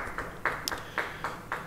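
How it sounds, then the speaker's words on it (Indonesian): Rhythmic clapping from a church congregation at a Bible study, steady regular beats a little over a quarter-second apart, moderately loud over a dense background hum. "Yang percaya beri tepuk tangan bagi dia."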